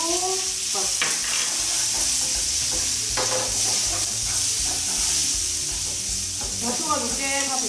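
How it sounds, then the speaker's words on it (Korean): Spaghetti, crisped bacon and butter stir-fry together in a pan for carbonara, a bright continuous sizzle broken by repeated scraping and tossing strokes of a utensil, close and fairly loud. "베이컨이 바싹 볶아지면 준비해준 면 넣으시고요. 그다음에 버터 같이 넣고 볶아주세요."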